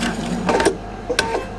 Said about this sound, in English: So I'm just going to start sewing.